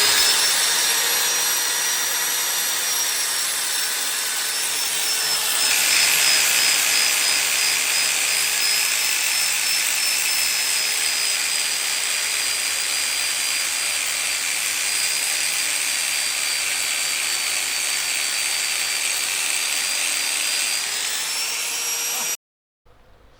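A Vauxhall Corsa Black Edition alloy wheel being sanded by a power tool, a loud, continuous high whine with a brief surge near the start, running unbroken for about twenty seconds before cutting off abruptly.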